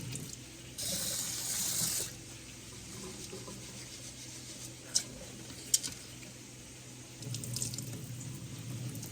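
A kitchen tap runs into a rice cooker pot while rice is rinsed, two short bursts of flowing water with quiet handling clicks between, close and fairly soft.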